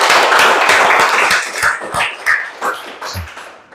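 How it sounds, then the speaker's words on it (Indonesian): An audience at a basic leadership training class claps loudly at first in a dense burst, then thins into scattered, uneven claps that fade over a few seconds. "Tepuk tangan."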